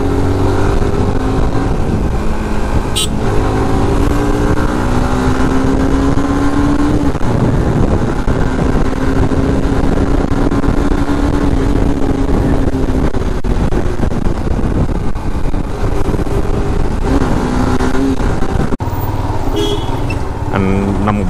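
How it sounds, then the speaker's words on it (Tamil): Yamaha R15 V2 motorcycle modified into an R1M look, lime yellow with underbelly exhaust, heard while being ridden: a continuous engine drone with shifting pitch and wind noise throughout, loud and close. "நம்ம பைக்கை ரைட் பண்ணிட்டு எப்படி இருந்து பார்ப்போமா"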